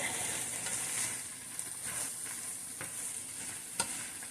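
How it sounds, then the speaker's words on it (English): Steady sizzling of chicken frying in a pan, with occasional scraping strokes of a utensil stirring it, close by and continuous. "Just going to get that meat mixed in."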